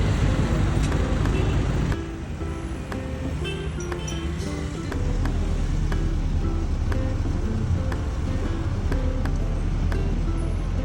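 Inside a moving bus on a road, a steady engine and road rumble fills the whole span with traffic noise around it and small rattles and clicks, no clear speech.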